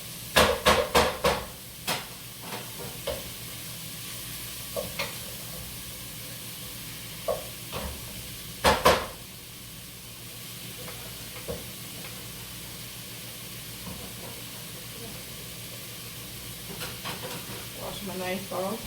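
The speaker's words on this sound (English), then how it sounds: "Cook that bacon until it's brown and crispy." Bacon fries in a pan with a soft continuous sizzle, broken by several sharp clattering knocks of utensils early on and again near the middle.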